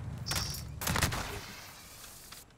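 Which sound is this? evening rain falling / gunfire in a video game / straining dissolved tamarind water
gunfire in a video game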